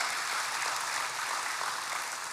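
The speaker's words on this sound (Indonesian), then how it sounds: "Yang mengerti, berikan tepuk tangan bagi Tuhan." A church congregation claps together in steady, dense applause that holds at an even level from start to finish, with no voices rising above it.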